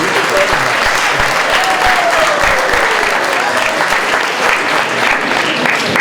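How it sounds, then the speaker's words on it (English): An audience at a Haitian youth conference applauds in a dense, steady, loud wash of clapping that carries on throughout, with a voice briefly audible beneath it. "Please clap."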